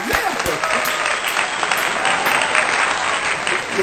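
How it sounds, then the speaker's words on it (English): A studio audience claps in a steady, dense round of applause that holds at an even level throughout, with no voices over it. "Y'all clap that up if y'all can."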